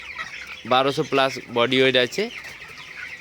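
Constant high chatter of 24-day-old broiler chickens on a poultry farm, a crowded flock heard behind someone speaking close up.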